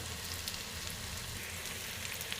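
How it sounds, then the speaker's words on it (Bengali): Chopped onion and green chili fry in hot oil, a soft, even sizzle that holds steady throughout without any pauses. "এটাকে কিছুক্ষণ ভেজে নেব"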